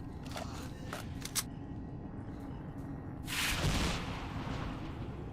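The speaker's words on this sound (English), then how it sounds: "I don't like how I heard that explosion off to my left" A muffled explosion booms off to one side in STALKER: Shadow of Chernobyl, a broad rumbling burst after a few sharp clicks and thuds over a steady low background.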